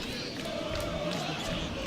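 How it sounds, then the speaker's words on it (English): A high school basketball crowd at a Greenwood girls' game cheers in a steady, moderately loud roar, with a commentator's voice talking over it. "that brings the crowd to their feet as they appreciate the extra effort from the Lady Bulldogs"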